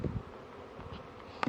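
Honey bees buzz close around a beekeeper's head, a wavering insect drone with a couple of sharper knocks and rustles, and no voices.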